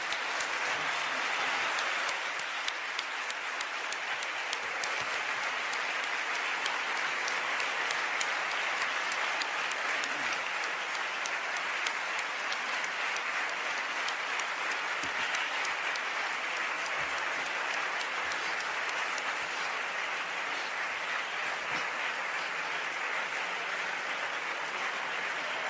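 Sustained applause from a lecture audience, dense and steady clapping filling the hall throughout without a break, no speech over it.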